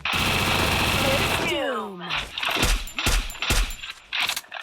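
Gunfire in the Free Fire battle royale game, a rapid machine-gun burst followed by several sharp separate shots, loud and close, with a voice talking over it.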